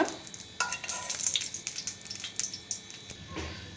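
Hot oil tempering poured into tomato chutney crackles and sizzles with quick popping bursts, close up and fairly quiet, fading into softer spattering.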